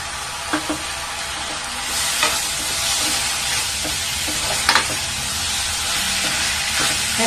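Sliced tomatoes sizzle and fry in a chicken gravy pan, a steady close hiss of hot oil broken by occasional scraping stirs of a spoon, with no voices.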